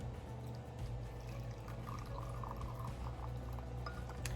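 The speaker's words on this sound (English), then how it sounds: "So let's pour the chai." Chai tea pours steadily into a big cup, a soft continuous liquid stream heard close up against a low background hum.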